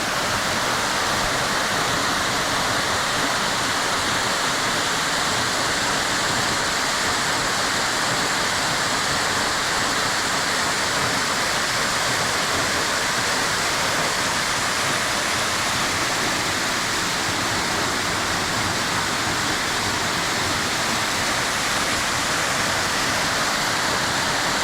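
Spruce Flats Falls, a small waterfall, pours in a steady, dense broadband rush heard up close, continuous and unvarying, with no voices.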